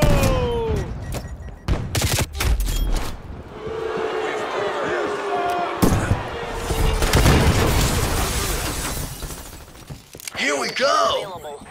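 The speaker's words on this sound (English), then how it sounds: "with hand cannon" Hand cannon fire in the video game Call of Duty Cold War comes as heavy booming shots at irregular intervals, mixed with chaotic in-game effects and voices.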